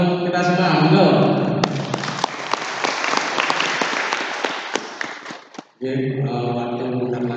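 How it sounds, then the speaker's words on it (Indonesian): Audience applause at an evening village head candidates' forum, a dense burst of clapping lasting several seconds, with a voice speaking before it and again after it stops. "Beri aplaus untuk kita semua."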